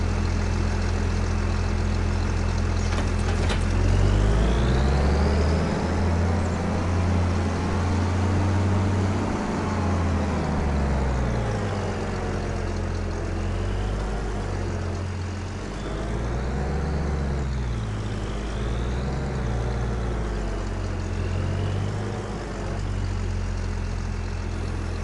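Combine harvester engine in Farming Simulator 25 on PlayStation 5, a steady low diesel drone that rises and falls in pitch as the machine drives and maneuvers, loud and continuous with no talk.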